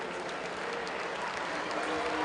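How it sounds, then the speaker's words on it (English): Crowd applause in a gym at a men's college basketball game, a dense steady roar of clapping filling the whole stretch at moderate, even loudness. "big round of applause for Luigi, fan favorite"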